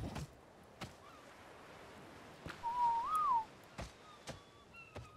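In the video game Ark, a player character gives a short rising-and-falling whistle as a follow command to a raptor pack, heard amid faint background ambience and a few sharp clicks.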